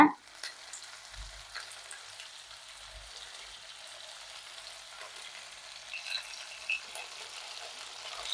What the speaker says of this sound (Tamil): இது எல்லாமே ஒரு நிமிஷம் நல்லா வதக்கலாம்